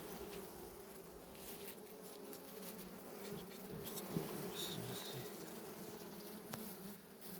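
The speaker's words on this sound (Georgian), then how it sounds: "ამაში არის ყველაზე ცოტა ფუტკარი." Honeybees buzz around an open beehive, a faint, steady drone of many wings with a few individual bees passing closer, no voices.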